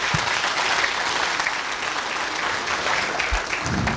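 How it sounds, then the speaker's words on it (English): Audience applause for students at a school annual gathering: a full, steady wash of clapping from a large crowd, loud and sustained for about four seconds with a few louder hand claps standing out. "Please give them a huge round of applause."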